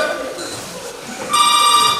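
Telephone on stage during a Hindi stage play, a bright electronic ring that starts partway through and repeats steadily, loud and close.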